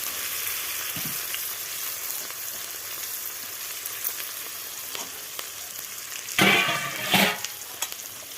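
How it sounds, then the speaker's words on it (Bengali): Onions fry in a pan with a steady close sizzle, broken by a couple of louder stirring scrapes near the end and no talk. "পেঁয়াজটা ভাজা ভাজা হয়ে গেছে।"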